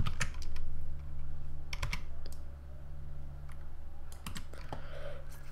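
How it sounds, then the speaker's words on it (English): Typing on a computer keyboard during 3D modeling work in Blender, irregular clusters of close, crisp key clicks with short pauses between bursts, no voices. "hit C on our keyboard"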